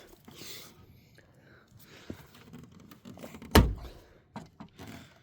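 A 2020-era Nissan Sentra rear tail light assembly pushed firmly into its socket gives one sharp, close thunk amid quiet handling noises, with a few softer knocks after.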